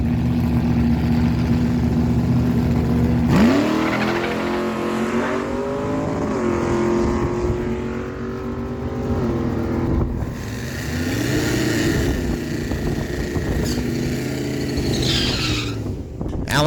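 A 1967 Pontiac Firebird and a 1980 Pontiac Trans Am launch down a drag strip with a sudden loud roar and tire squeal. The engines climb hard through several shifts and then fade as the cars pull away.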